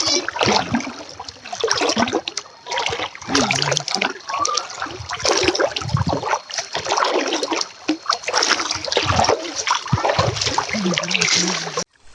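River water splashes and swirls around a small boat during net fishing, with continuous broadband sloshing and rushing close by and occasional louder splashes.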